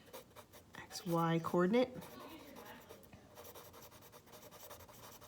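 Marker or chalk scratching and rubbing across a classroom board while a teacher writes coordinates, soft strokes running on through and after a burst of talking voice.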